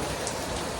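Steady rain falls outdoors near a parked car, a brief continuous hiss of drops with no voices.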